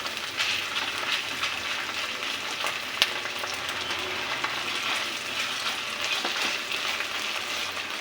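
Fish gravy frying in a pan, a steady loud sizzle that holds for the whole stretch, with a single brief clink near the middle and no voices.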